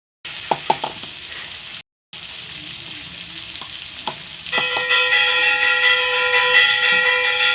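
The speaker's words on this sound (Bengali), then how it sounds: "শুকনো লঙ্কা, তেজপাতা ফোড়ন দিয়ে পেঁয়াজ আর টমেটো ভাজা হচ্ছে" Onion and tomato sizzle in a pan tempered with dried chilli and bay leaf, a soft steady crackle with a few clinks of a utensil, then a louder, brighter frying hiss joined by a ringing tone in the latter half.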